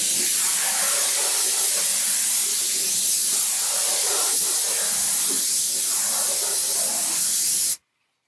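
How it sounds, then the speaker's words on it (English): A sprayer hisses steadily as it applies stain to a dry wooden fence, a loud, close, continuous spray that cuts off abruptly at the end. "So you can see how I'm spraying it on"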